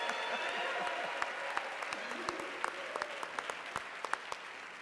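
An audience at a mayoral education forum applauds a Brooklyn church, a dense wash of clapping with a few sharper individual claps standing out near the end.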